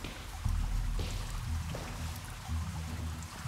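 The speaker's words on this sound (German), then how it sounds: "Ich höre hier Wasser. Rauschen." Water rushes steadily at a moderate distance, a continuous low, faint roar with a few small knocks and shifts on top.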